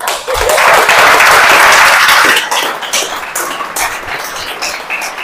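An audience at a speaking event breaks into loud, dense applause that swells for a couple of seconds and then thins into scattered claps.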